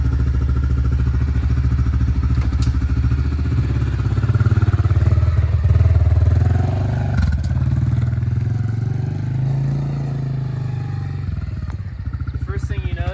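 SSR125 pit bike and Honda CRF110 motorcycles running close by, with buzzy engine revs that rise and fall over about thirteen seconds, a few clatters, and some talk.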